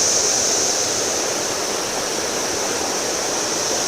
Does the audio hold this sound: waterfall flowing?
yes